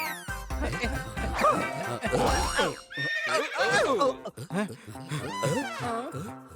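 A cartoon horse in a Malayalam children's cartoon whinnies in loud, pitch-sliding neighs, with another whinny near the end, set among lively cartoon sound and voices.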